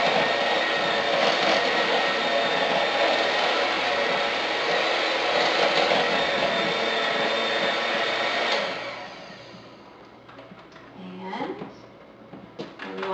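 Electric hand mixer blending cookie batter with a teaspoon of vanilla, a loud steady whir running for about eight seconds before cutting off, leaving quieter kitchen clatter.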